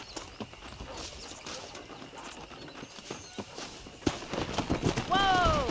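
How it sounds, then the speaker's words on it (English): Hooves clip-clop rapidly in a running rhythm under game music and ambience in Red Dead Redemption on PC, ending with a horse's whinny. "Let's see if we can't wrangle some horses."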